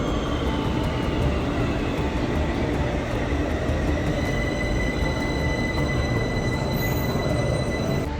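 An Algiers metro train rolls into an underground platform with a steady loud rumble, wheel noise and faint squeals sustained throughout.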